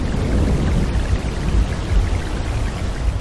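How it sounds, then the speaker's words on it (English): Heavy rain is used as a sound effect, a dense and loud steady hiss of falling drops that fills the whole moment without pause. "when we hear the rain sound again"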